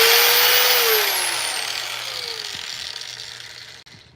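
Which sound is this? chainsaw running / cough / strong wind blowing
chainsaw running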